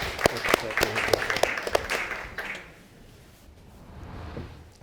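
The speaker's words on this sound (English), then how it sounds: "I think he deserves a round of applause" A studio audience in a courtroom applauds a guest as he enters, with a burst of claps that fades out after a couple of seconds into quiet room tone.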